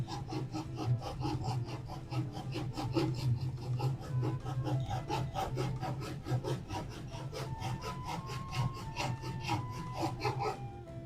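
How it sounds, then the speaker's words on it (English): A hand saw cuts a guiding kerf line across pallet wood in quick, even rasping strokes, close and steady for around eleven seconds with no talk. "I bring my saw and bring it parallel"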